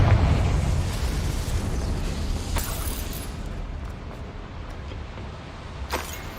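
A Confringo fire spell explosion in the Hogwarts Legacy video game opens with a loud, rumbling burst that fades into a crackling tail, followed by a couple of sharp, brief cracks later on.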